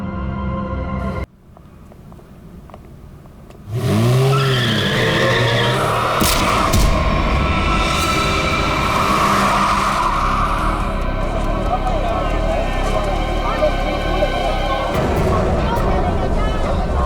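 A car skids while driven recklessly in a TV crime drama scene: after a quieter stretch, a sudden loud roar with a brief tire squeal, then sustained loud engine and road noise under voices.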